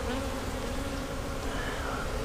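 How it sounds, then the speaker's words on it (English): A loud, unbroken hum of agitated honey bees fills the air around a hive being split, the dense buzzing close and constant with faint wavering pitch lines over the whole stretch. "I want these bees to calm down."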